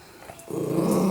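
A dog growls low and steady at close range, the rumble swelling after a short quiet start, heard in a garage during work on a KTM 690 Enduro motorcycle.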